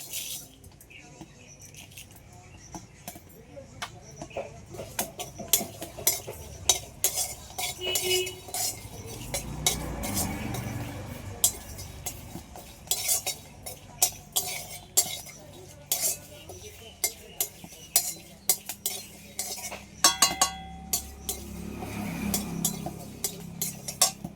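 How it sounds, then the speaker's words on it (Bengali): Dried red chillies torn into a pan with cumin seeds, frying for a Bengali fish curry, give a steady crackle and sizzle under busy clinks and scrapes of a utensil against the pan, with no talk. "একটু মশলা ভেজে নেব"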